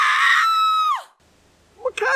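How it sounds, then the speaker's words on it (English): A piercing, high-pitched scream, loud and sustained for about a second before sliding down and cutting off, followed by a short shouted exclamation. "Then you hear the terrible high-pitched screaming."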